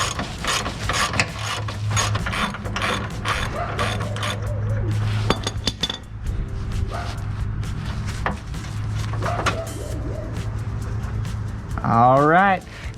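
A hand ratchet clicks in steady bursts while loosening a driver's-side sway bar bushing bolt under a 1997-2004 Dodge Dakota, close metallic pawl ticks with someone talking in between.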